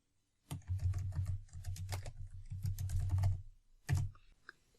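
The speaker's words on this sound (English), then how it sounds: "I will type search folders here." Rapid keystrokes on a computer keyboard entering a short search phrase, a quick burst of clicky taps with brief pauses, close and clear with no talking.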